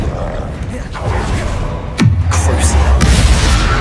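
A Bombarda explosion spell from the Hogwarts Legacy game lands with a single loud, sharp boom midway, then a falling, rumbling tail. Dense battle noise runs underneath the whole time.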